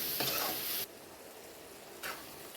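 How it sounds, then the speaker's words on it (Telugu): Paneer capsicum masala frying and being stirred in a pan, with bursts of sharp hissing sizzle at the start and again near the end, and quieter cooking noise in between; no talking. "దీన్ని ఇలాగే ఒక 5-10 మినిట్స్ కొంచెం ఫ్రై చేసుకోండి."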